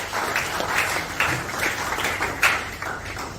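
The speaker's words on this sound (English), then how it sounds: "Please give a round of applause to the Emir of NASARAWA." An audience at a public lecture on environment and climate entrepreneurship applauds in a steady, moderately distant wash of clapping with a few sharper claps standing out, and no speech over it.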